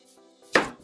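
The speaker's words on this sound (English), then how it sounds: "I always cut off each side of the onion and I peel this off." A knife cutting through a purple onion, one crisp chop against a board close up after a faint lead-in.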